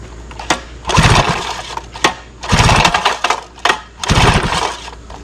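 A 1973 Johnson 25hp outboard motor is pull-started in three separate yanks, each a loud, close burst of rapid cranking and ratcheting that fails to catch, with short pauses between pulls.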